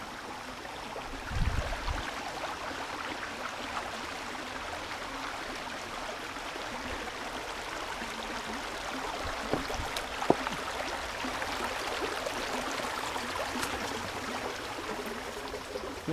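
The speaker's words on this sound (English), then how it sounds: "Right at the beginning here, we already have a little creek crossing to negotiate." A small creek flows at a trail crossing on a hike, giving a soft, steady rush of water that holds throughout with a few faint knocks and footsteps.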